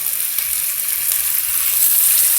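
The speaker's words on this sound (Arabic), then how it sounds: "وبعد ما يبتدي ياخد لون بسيط كده بننزل بقى قد كده بقطع الفراخ بتاعتنا" Chicken pieces added to onions in olive oil sizzle steadily in a pan on a portable gas stove, a loud, close, continuous frying hiss with no talking.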